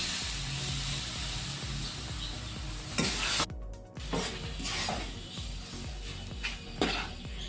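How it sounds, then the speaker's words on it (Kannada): Milk poured slowly into roasted chiroti rava in a hot pan for rava burfi, bursting into steady loud sizzling with spoon scrapes and a couple of clattering stir strokes against the pan. "ಇದಕ್ಕೆ ಒಂದು ಕಾಲು ಕಪ್ಪಷ್ಟು ಹಾಲು ಹಾಕೊಳ್ಳೋಣ ನಿಧಾನಕ್ಕೆ ಹಾಕ್ಕೊಳ್ಳಿ"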